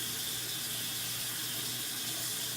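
Warm tap water runs steadily from a faucet as a constant, even hiss and gush in the background while gauze is readied to clean a stoma, with no voices and no change in flow.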